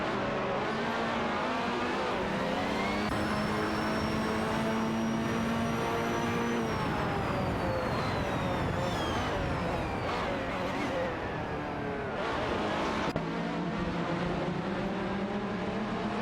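Race cars roaring around a track in a racing video game, including a Lamborghini Sesto Elemento and a Koenigsegg, with engines whining and shifting pitch continuously as cars rev, upshift and pass by.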